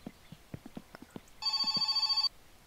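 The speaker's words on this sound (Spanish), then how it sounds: "No, es una llamada." A telephone ringing with an incoming call in the game My Summer Car, one loud electronic bell trill lasting under a second, preceded by light footsteps and knocking sounds.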